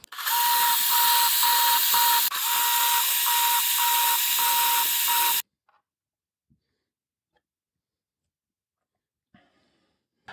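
A delicate 1.5 mm drill bores holes for hooks in a small block during a Libreflip build, giving a loud, steady high-pitched whine with slight pulsing for about five seconds, then cutting off to near silence with a few faint clicks.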